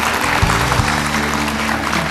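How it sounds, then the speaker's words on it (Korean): A studio audience applauds for a television lecture, a dense, steady wash of clapping that fills the whole stretch at an even level, with a low hum beneath. "여러분 힘찬 박수 부탁드립니다"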